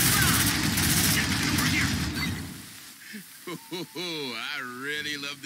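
Rapid sustained gunfire from the player's weapon in the sci-fi game Aliens: Dark Descent, loud and dense for about two seconds before cutting off, followed by someone speaking.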